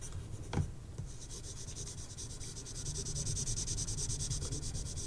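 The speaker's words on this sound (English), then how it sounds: "Again, I'm just using the flat of this 2B pencil." A 2B pencil shades on paper with its flat side, making a steady, close, continuous scratchy rubbing with a soft tap near the start, growing slightly louder toward the end.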